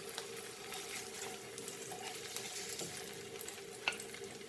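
Paneer fries in butter with a faint, steady sizzle, punctuated by a few small taps and clinks near the pan.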